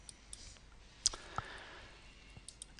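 A single computer mouse left click stands out near the middle, a sharp faint tick over quiet room noise with a couple of softer clicks around it; no one speaks.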